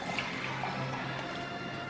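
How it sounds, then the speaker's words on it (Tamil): Warm water, one cup, poured into a bowl for whole wheat bread dough, a steady close trickling stream running throughout without pause. "அடுத்து 1 கப்பு வார்ம் வாட்டர்."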